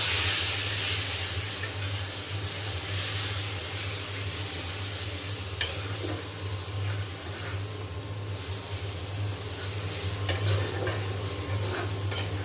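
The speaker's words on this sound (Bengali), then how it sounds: "আমি এখন এই যে শাক দিয়ে দিলাম, কচুর শাক।" Taro leaves hit a pan of already fried onions and give a loud continuous sizzle and steamy hiss that gradually settles, with a few scrapes of stirring and no talking.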